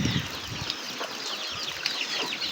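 Chickens and ducks on a rural farm make clucking sounds with bursts of wing flapping nearby, alongside steady background farmyard noise.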